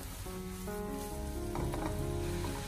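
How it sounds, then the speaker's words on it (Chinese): Cabbage and eggs stir-fry in a wok over high heat, a loud continuous sizzle with clattering scrapes of the spatula tossing the food, no talk. "然后再开大火将它快速的翻炒一下，将它翻炒均匀"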